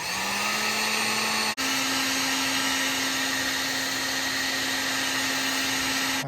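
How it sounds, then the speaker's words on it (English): A heat gun warming heat shrink tubing on wiring during a double DIN radio install in a 2007 Tahoe blows a steady, loud fan-and-heater roar with a brief dropout early on, and no voices are heard. "now I got my heat gun"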